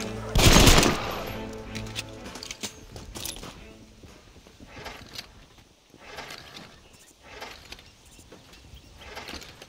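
Gunfire in the western video game Red Dead Redemption: one loud, sharp blast near the start, then scattered fainter shots and mechanical clicks over a low, busy in-game background.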